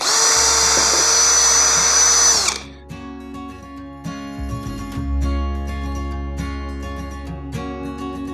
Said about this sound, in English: So I'm going to pre-drill each location